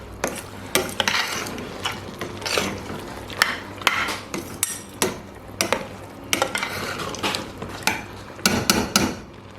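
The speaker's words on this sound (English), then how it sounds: "I'm going to stir it up." A spoon scrapes and clanks against a metal pot of Afang soup in an uneven stirring rhythm, with repeated close, bright knocks and swishes.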